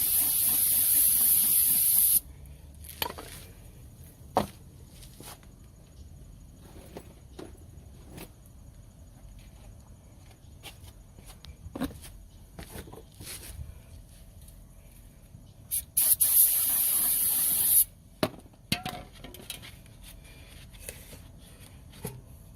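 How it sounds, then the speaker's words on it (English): Sharp hissing bursts of aerosol brake cleaner spray, a long blast then a couple of short ones, close up, with clinks and handling noises between, during an Acura TL brake rotor and pad replacement. "right now I'm gonna spray a little brake clean"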